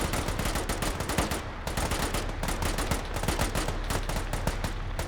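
Sustained automatic gunfire fills an Arma armoured-division desert training exercise, a dense, continuous stream of loud rapid bursts with no pause and no audible talking.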